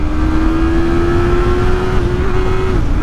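A 2023 Yamaha MT03 motorcycle engine held at wide open throttle near redline, a loud, steady high-pitched drone that stays level for about three seconds, then drops slightly at the end, with no voices.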